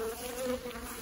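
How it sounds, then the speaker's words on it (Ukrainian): A steady, close buzzing of honey bees at an apiary fills the whole moment, a continuous hum with no voices. "бджоли"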